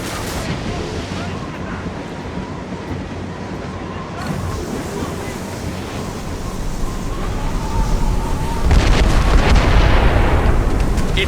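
Ship cannons fire during a naval battle in Assassin's Creed Rogue, heard as loud, dense booming over constant sea wash and wind, and the roar swells near the end. Voices shout in the mix.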